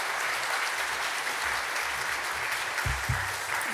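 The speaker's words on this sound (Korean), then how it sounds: "우리 큰 박수로 목사님 환영했으면 좋겠습니다" A church congregation claps to welcome the pastor at a Sunday worship service, dense and steady applause filling the hall throughout with no voices over it.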